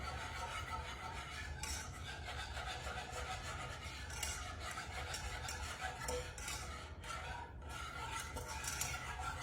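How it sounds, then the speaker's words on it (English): Hot chocolate being whisked in a pot on a stovetop with the heat off, a continuous soft rasping swish of the whisk against the pot, close but quiet, no talking. "I'm gonna go ahead and turn the heat off, just whisk it"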